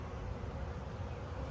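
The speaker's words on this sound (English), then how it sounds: "There's still a lot of bees on this tree." Honeybee swarm clustered on a tree during spring beekeeping, a faint, continuous low buzzing hum of many bees, steady and without pauses.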